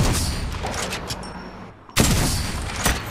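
Dense gunfire from the video game Apex Legends rattles in a loud continuous barrage, briefly dropping away before another burst of shots and booms erupts, with no talk.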